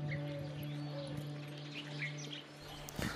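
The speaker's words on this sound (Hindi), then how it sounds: "सुबह चिड़ियों की आवाज़ से हमारी नींद खुली।" Morning birdsong in a hot Rajasthan desert village, with faint scattered chirps and tweets over a low steady hum, fairly quiet and distant throughout.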